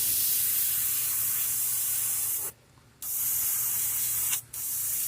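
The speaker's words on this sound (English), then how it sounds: "I'm trying to get all the black out of my airbrush" An airbrush sprays continuously to flush out black paint, a loud, close, steady hiss that cuts off completely twice, once for about half a second and once very briefly, before resuming.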